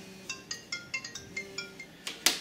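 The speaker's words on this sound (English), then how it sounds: "Ah, phone call." An incoming call on a phone rings with a repeating electronic chime of short tonal bursts, moderately faint in a quiet workshop during a quadcopter rebuild.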